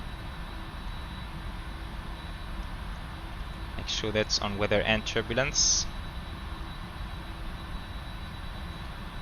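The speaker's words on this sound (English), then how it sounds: "Okay, engines firing up." Engines of a PMDG 747-400F freighter spooling up in the Prepar3D simulator, a steady droning hum with faint tonal whine, under a brief stretch of someone talking.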